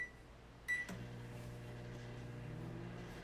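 A microwave oven with a glass of water and a metal grid inside switches on with a short beep and click, then settles into a steady, quiet low hum with a faint fan drone, heard alone.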